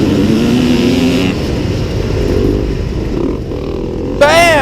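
A Yamaha YZ250 two-stroke dirt bike screams at wide open throttle during a motocross race, loud and close with a continuous raspy drone, briefly dipping before a sharp rising rev at the end.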